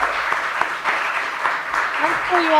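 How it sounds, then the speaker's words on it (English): Audience applause at a live games talk event, a steady wash of clapping from a crowd that builds toward the end, with a voice speaking over it. "Round of applause for yourselves."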